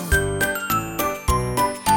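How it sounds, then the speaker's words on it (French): Morning bells in a French children's nursery song ring out in bright, repeated chimes, a regular ding-ding-dong pattern of clear tinkling tones. "Les cloches du matin sonnent, les cloches du matin sonnent. Ding ding dong, ding ding dong."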